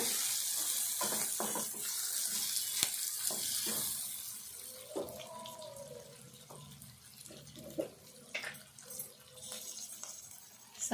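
Tap water trickles softly while green chillies are rinsed at a kitchen sink, with faint splashes and handling clicks that come and go.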